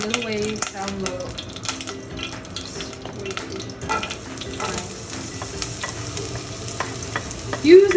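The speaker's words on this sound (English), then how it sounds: "So now that I can hear my pan cracking up, I'm gonna turn my fire a little way down low." A greaseless pan sizzles and crackles steadily on the stove while stuffed bell peppers cook, with light stirring and faint kitchen clatter throughout.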